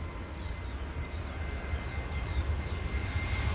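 A Ryanair jet airliner roars steadily as it takes off from Luton Airport in the early morning, a broad loud rumble with faint bird chirps audible above it.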